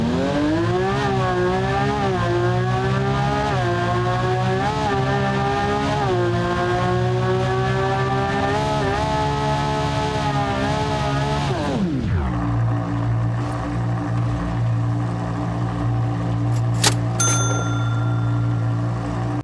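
A Lamborghini Aventador engine revs hard in rising and falling sweeps, loud and close, then drops sharply to a steady lower drone as the car pulls away, with a brief bright ringing near the end.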